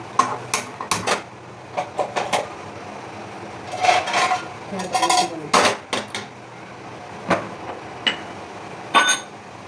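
Pots and metal utensils clink and scrape in irregular bursts while cooked chicken is served at home, with sharp knocks and rattles close by and no talking.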